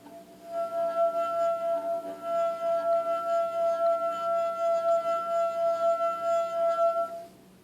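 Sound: rubbing the rim of a wine glass with liquid

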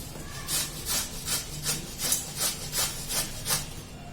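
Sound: grating raw mango with a grater

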